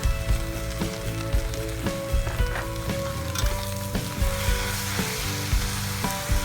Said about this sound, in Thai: และผัดต่อไปอีก จนกว่าผักจะสุกได้ที่ค่ะ